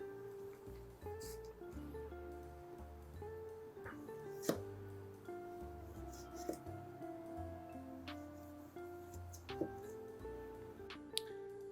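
A kitchen knife slices through tomatoes on a cutting board, making quiet, irregular crisp taps and chops with occasional sharper knocks against the board.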